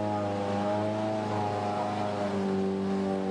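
A Citroën DS3 WRC rally car at the Rally Mexico pulls away with a steady, loud engine drone, its harmonic tone rising slightly as it accelerates, with no talk.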